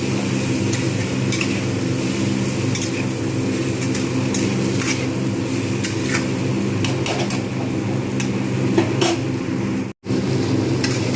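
Oil sizzles steadily in a pan as ridge gourd and gram flour fritters fry, a constant frying hiss with a few faint clinks and a brief dropout near the end.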